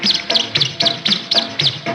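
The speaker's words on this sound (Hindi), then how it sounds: "छुन छुन करती आई चिड़िया" A small bird chirps in a quick, even series of about eight bright, close, loud twitters, each a short sharp burst, with no talking.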